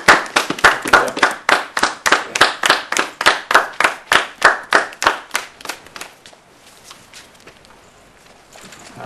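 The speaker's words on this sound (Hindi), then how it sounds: "हम लोग खड़े होकर तालियां बजाएंगे" A standing audience at a mushaira claps for a poet: sharp, evenly spaced loud claps in a steady rhythm for about five seconds, then fading into scattered softer claps and quiet room sound.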